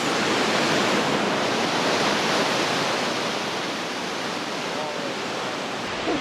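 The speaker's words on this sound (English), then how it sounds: "I love how it's like that sheer rock right beside the waterfall." A loud waterfall pours beside sheer rock, throwing up mist, a constant roaring rush of water that fills the whole stretch without pause.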